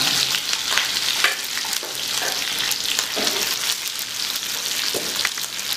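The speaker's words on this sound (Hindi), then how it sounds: "प्याज को मिक्स कर लेंगे इस तरह से।" Long, thick-sliced onions fry in a pan for fish curry, a loud continuous sizzle crackling throughout while a utensil stirs them with repeated scraping clicks, close and without talk.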